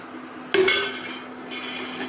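Dosa batter poured onto a hot pan, a sudden burst of sizzling that settles into a steady hiss, with a light clink of a utensil, close by and with no talking.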